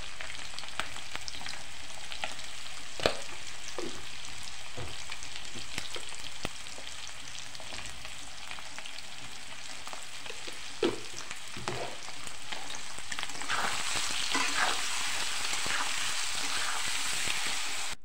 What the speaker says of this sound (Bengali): এবার আলুগুলোকে আমি একটু হালকা করে ভেজে নেব।